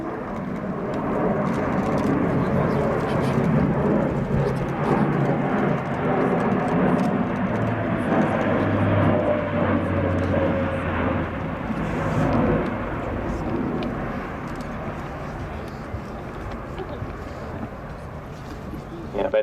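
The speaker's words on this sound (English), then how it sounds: "the aircraft returning to low level" An Airbus A400M Atlas military transport aircraft in a flying display at an air show, a loud sustained turboprop roar that swells and slowly shifts as it passes at low level, with wind buffeting the microphone throughout.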